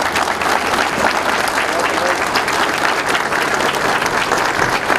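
A crowd applauds soldiers at a medal ceremony, a thick, steady wash of many hands clapping together at close range, sustained without a break throughout.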